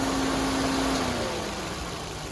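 Maruti Swift with an AMT gearbox and a starting problem idles with the bonnet open, a steady close engine hum with a faint tone that fades slightly partway through, no talk.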